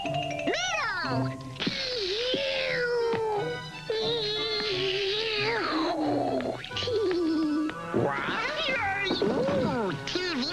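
Cartoon voice imitating a cat, a run of exaggerated sliding meows and yowls, loud and close, separated by short pauses with faint chimes between them.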